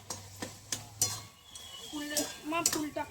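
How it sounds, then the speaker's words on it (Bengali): A spatula stirs cooked bottle gourd curry in a pan, giving several sharp scraping clinks against the pan in an irregular rhythm, with a speaking voice over the later part. "এবার আমি একটু খুন্তি করে এরকম নাড়াচাড়া করে নেব।"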